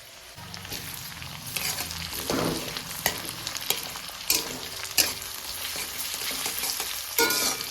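Chopped tomato frying with browned onions in a pan, a close sizzle broken by stirring scrapes and occasional utensil clatters, with no talking.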